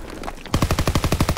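A close, loud burst of rapid automatic fire in a WW2 shooter game, about a dozen evenly spaced shots rattling off after a brief quieter lead-in.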